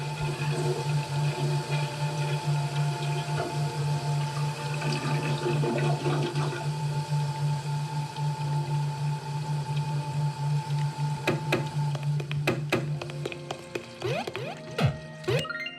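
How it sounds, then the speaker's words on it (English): A toilet flushes in the Manamon video game, a steady rushing water sound with a low hum running about thirteen seconds before tapering off into a few sharp clicks and gurgles. "You can flush the toilet!"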